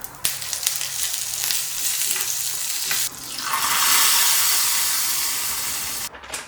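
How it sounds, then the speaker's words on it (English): Mustard seeds and chana dal crackle and sizzle in hot coconut oil for a tadka, a steady hiss with a brief break midway before the frying surges louder, then cuts off near the end; no voices. "Now to make a tadka, I add in coconut oil, mustard seeds, chana dal,"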